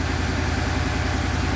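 A new 2020 Ford F-350 Tremor pickup with the 7.3-liter gas V8 idles, heard from inside the cab as a steady, even low rumble with a faint regular pulse and no speech.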